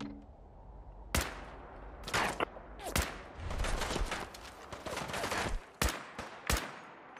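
Rapid bursts of gunfire in the video game Fallout: Miami, sharp loud cracks in uneven clusters over a steady rumbling game background, with a longer sustained volley in the middle.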